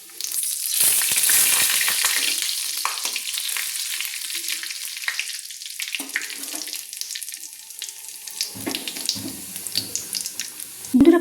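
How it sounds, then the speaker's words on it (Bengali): Whole dry red chillies, cinnamon pieces, cardamom, cumin seeds and bay leaves fry in hot oil as tempering for a vegetarian dal, a steady close sizzle with scattered crackles and a few stirring clinks. "ফোড়নের জন্য দিয়ে দিয়েছি 2 গোটা শুকনো লঙ্কা, ছোট 2 দারচিনি টুকরো, 1টা গোটা এলাচ"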